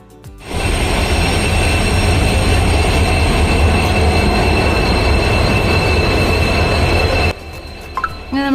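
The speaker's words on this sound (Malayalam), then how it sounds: "അങ്ങനെ നമ്മൾ ട്രെയിൻ എത്തി കേട്ടോ." A train pulls into a railway station on a journey to Chennai, its loud, steady rumble and rolling wagons filling the scene with high wheel squeal along the rails, then cutting off abruptly near the end.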